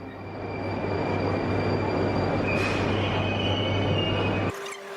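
A Moscow Metro train running through a tunnel, loud and close: a steady roar of wheels on rail with high squealing tones, rising briefly near the end before a sudden drop as the noise cuts lower.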